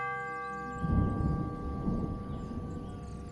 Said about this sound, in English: You pull on the rope, and the clapper conjures a melodic pealing from the mouth of the bell.